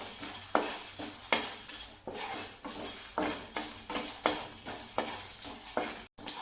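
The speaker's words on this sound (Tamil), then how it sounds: "இப்போ எடுத்து வச்சுருக்க மசாலா எல்லாம் போட்டு வறுக்கலாம்." Dry masala spices roast in a hot pan, with repeated evenly spaced scraping and clinking strokes of a spoon against the pan over a faint dry sizzle, close by.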